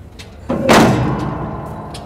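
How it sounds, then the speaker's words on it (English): A single loud thud of the heavy metal door on a New Holland DuraTank 3400S manure spreader being kicked shut, with a ringing resonance that fades over a second or two. "kick the door closed and you're ready to go"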